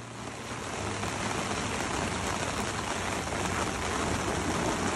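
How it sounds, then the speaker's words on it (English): Steady rain falls on a tent during a North Dakota road trip, a dense, continuous hiss of drops that holds at a constant level throughout with no voices. "as I got in, it started raining."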